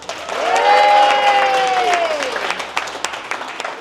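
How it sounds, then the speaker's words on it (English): Clapping and some cheering from a crowd at a youth mentorship program graduation, with a tonal whoop or whistle rising over the applause early on before the clapping thins out toward the end. "Round of applause."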